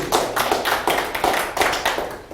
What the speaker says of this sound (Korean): 우리 윤여홍 대표님께 박수 한번 보내주시죠